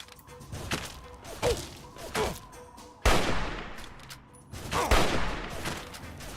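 Shotgun blasts in Fallout 3, several heavy booming shots spaced a second or two apart, with sharp impacts and short echoing tails, loud and close.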